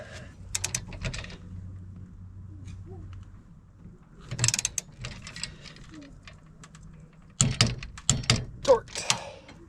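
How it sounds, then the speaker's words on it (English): A ratchet tightens the A-arm bolts on a Polaris RZR side-by-side, heard as close bursts of rapid clicking separated by quieter pauses, with some metallic shuffling between. "Torquing the A-arms."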